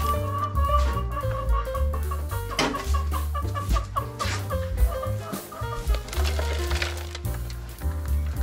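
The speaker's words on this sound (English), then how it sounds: "why do I hear a chicken?" A nesting chicken in a farm feed area with goats, clucking in a series of short, near calls over a low steady background hum, with clinks and rustles scattered through.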